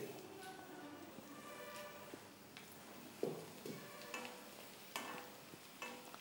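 A single dried chilli with its stem and then curry leaves drop into hot oil, giving soft sizzling and frying crackle with a few sharper pops and stirring taps.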